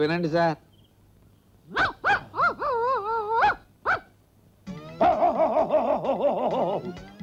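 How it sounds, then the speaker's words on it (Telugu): Neighbours play a recording of dogs barking: short bursts of barks and yelps in the middle, then a longer wavering whine or howl. Someone speaks briefly at the start. "పక్కింటి వాళ్ళు కుక్కల అరుపులు రికార్డ్ చేసి మన ఆనందం కోసం వినిపిస్తున్నారు"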